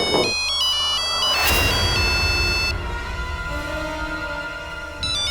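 An electronic phone ringtone plays a bright, repeating melody of high tones, loud and close, with a brief pause before it starts again.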